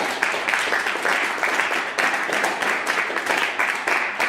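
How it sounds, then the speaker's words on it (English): Church congregation clapping during a Sunday sermon: sustained, fairly loud applause from many hands with a steady, slightly rhythmic texture, swelling in bursts and carrying on without speech. "You can even clap for Jesus."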